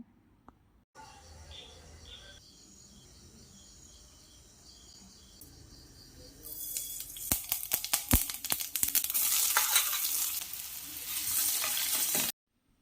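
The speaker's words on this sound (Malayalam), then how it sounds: "ആ എണ്ണയിൽ നമുക്ക് കടുക് വറുക്കുകയും ചെയ്യാം." Mustard seeds fry in hot oil for a Kerala okra pachadi, first a quiet stretch with faint hum, then a dense burst of close, loud crackling pops and sizzle that runs for several seconds before stopping abruptly.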